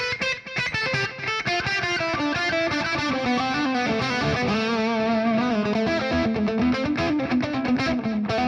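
Distorted electric guitar lead tone run through a HyperRig amp modeler, a sustained, heavily saturated melodic line played continuously and loudly with no talking.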